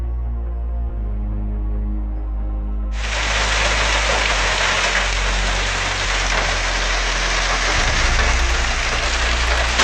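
Heavy rain pours steadily across a road during a violent storm, a dense loud hiss that starts abruptly and continues without a break, with a low engine rumble underneath.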